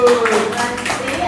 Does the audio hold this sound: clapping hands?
yes